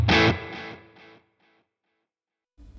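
Electric guitar played through a Boss Katana amp's tape echo delay for a vintage blues-rock tone: a loud distorted phrase of a few notes whose repeats trail off into fading echoes, then a brief silence before a new note starts.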